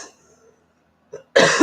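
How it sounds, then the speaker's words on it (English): A single harsh, loud cough bursts out near the end, after a brief quiet breath and a small throat noise, close to the listener. "Oh, this cough."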